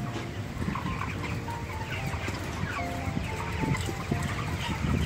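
Jumbo broiler chickens of about 3 kg cluck and murmur continuously amid a busy, noisy coop background, with scattered higher calls throughout.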